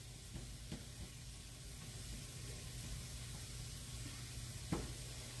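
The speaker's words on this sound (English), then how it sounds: "keeping an eye on the ham and making sure, and onions and green peppers, and getting them all soft" Ham, onions, green peppers and potatoes fry in a pan with a faint, steady sizzle and a few soft stirring scrapes, no voices.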